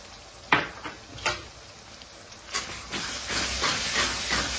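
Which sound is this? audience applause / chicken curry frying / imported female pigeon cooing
chicken curry frying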